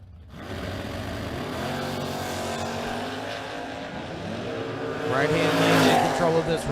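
Camaro drag cars launching at a drag strip event, loud engines roaring and rising in pitch with a surge near the end, heard under an announcer's voice.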